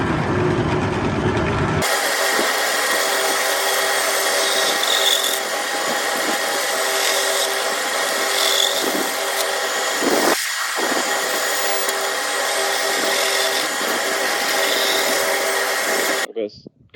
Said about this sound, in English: I'm just going to roughly cut on it and sand off the bits that I don't want.